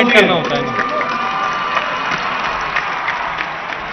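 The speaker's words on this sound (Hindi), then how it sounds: "जोरदार तालियां।" Loud applause and cheering from a crowd at a Jharkhand government event celebrating about one lakh private-sector jobs, a dense, steady wash of clapping and voices lasting the whole stretch.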